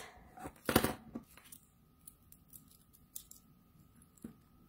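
Scissors snipping through ribbon during a Stampin' Up! card-making craft: a single loud crisp cut near the start, then a few fainter snips and small handling rustles, close and quiet with no talking.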